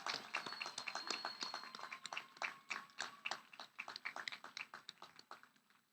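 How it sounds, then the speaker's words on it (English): Applause for graduates at a health sciences commencement ceremony, many hands clapping in a dense, fairly distant patter that gradually thins out, with faint whistles or cheers above it. "one final round of applause for our graduates"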